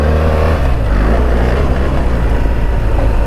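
BMW R1300 GSA adventure motorcycle with crash bars crawling slowly through rough terrain, its engine a steady low rumble held close and loud throughout, with no talk over it.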